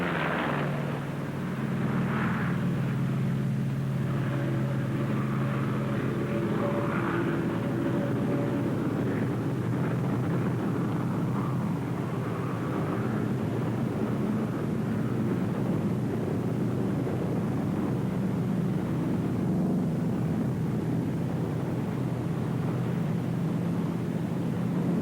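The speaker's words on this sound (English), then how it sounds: "Throttle forward with a steady positive motion. You're flying your 47 down the runway." A P-47 fighter plane's radial engine roars steadily at full throttle as it takes off down the runway, a loud continuous drone with deep harmonic tones that holds for the whole stretch, recorded in 1943.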